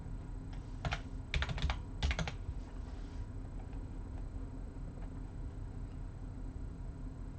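Typing on a computer keyboard for automation software: a few quick clusters of crisp key clicks early on, then only a faint, steady background hum with no talk.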